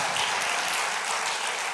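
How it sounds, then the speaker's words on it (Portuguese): A church congregation applauds: dense, steady clapping from many hands, even in loudness throughout, with no voices above it. "tem que ser um aplauso mais forte"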